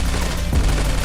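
Rapid AR-15 rifle fire in the mobile shooter game Modern Strike Online, a dense, loud burst of automatic shots blurring into a continuous roar, mixed with background music.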